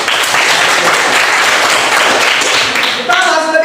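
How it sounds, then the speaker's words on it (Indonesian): Students in a classroom burst into loud, sustained applause that stays steady for a few seconds before tapering off. "Oke, berikan aplaus buat kalian semua."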